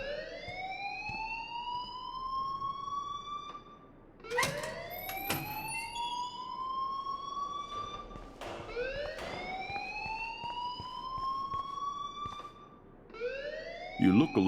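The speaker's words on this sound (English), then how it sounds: "please turn off that alarm since that's your job" A wailing, siren-like alarm sounds inside a building in the video game Life Is Strange, rising in repeated sweeps about every five seconds, loud and persistent, with voices talking beneath it.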